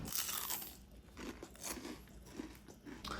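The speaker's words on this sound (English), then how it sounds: "you have to listen to this crunch" Loud, close crunching as someone bites and chews freshly fried homemade tempura, with crisp crackling bites repeating throughout.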